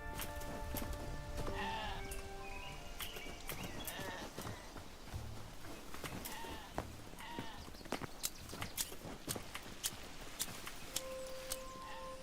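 Sheep bleat several times in the video game Hytale, short wavering calls over a busy layer of game ambience with scattered clicks and hoof-like taps.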